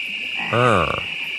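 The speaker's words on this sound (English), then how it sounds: "when they ribbit in the commercial, they make out the word Budweiser" Animatronic frogs at Universal Studios Florida give a single short croaking ribbit, a harmonic, slightly warbling call that stands out over a steady high hum and park background noise.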